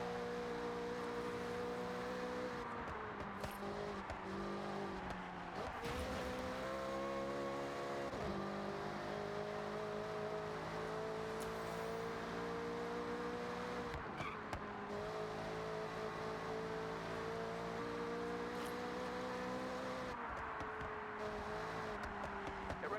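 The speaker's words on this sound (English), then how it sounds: "I don't think this Corvette sounds as good as like a Carrera GT" Corvette engine in the Forza Horizon driving game, a continuous loud droning growl that rises and falls through gear changes, with occasional revs and shifts over a long stretch and no talking.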